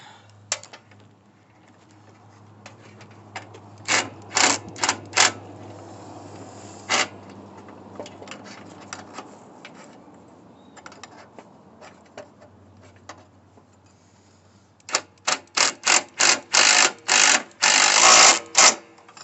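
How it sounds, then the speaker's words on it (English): Metal clicks from a wrench tightening a nut on the 42-inch mower deck of a Troy-Bilt Pony riding lawn mower, sparse ratcheting ticks at first, then a rapid close burst of clicks near the end over a low hum. "And we'll also tighten this one back up."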